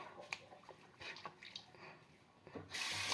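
Tap water runs and splashes during face washing at a bathroom sink, with soft intermittent splashes that swell into a louder steady stream near the end.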